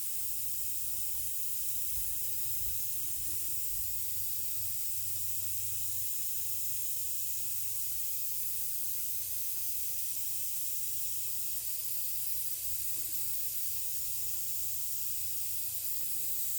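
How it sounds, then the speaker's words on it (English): A Gaahleri Aventus airbrush sprays thin lines, giving a steady, soft continuous hiss of air throughout with a faint low hum beneath and no talking. "So once again, we'll try our thin lines here."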